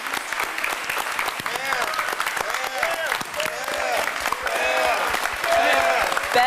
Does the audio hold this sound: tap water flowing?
no